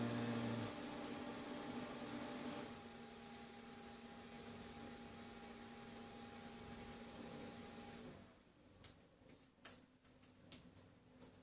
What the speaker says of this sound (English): I got my printer going.